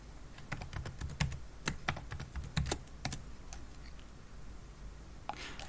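Soft, quiet keystrokes on a computer keyboard come in a short burst as a passphrase is typed, followed by a pause and one last key press.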